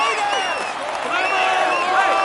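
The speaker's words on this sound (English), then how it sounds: "Applaud him as he deserves." A large crowd at the Tour de France cheers and applauds steadily, a dense wash of clapping and shouting with whistles rising through it, loud and continuous.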